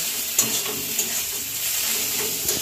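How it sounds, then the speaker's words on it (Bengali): Crab curry frying in a pan with spice paste and onions, a steady close sizzle with a few sharp stirring clinks, no talking. "আজকে রান্না হচ্ছে কাঁকড়া"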